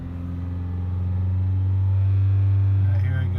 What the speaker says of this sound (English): I'll rev it and I guess just pop the clutch.